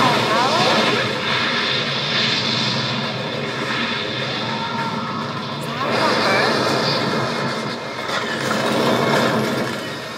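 Russian aircraft in a short war film, a loud, sustained engine roar with a heavy rumbling drone that swells and fades across the scene, mixed with talking over it.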